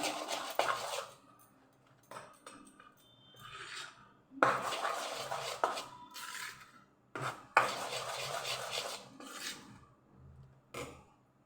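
Fermented batter with fresh lemon juice is stirred in a bowl, giving repeated close bursts of wet scraping and spoon-on-bowl rubbing, each lasting a second or two, separated by short quiet pauses.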